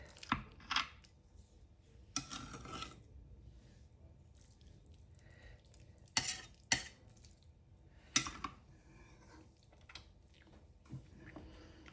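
A knife slices a piece of meatloaf just out of the oven. A few sharp, close clinks and scrapes come at irregular intervals over a quiet background, with no talking.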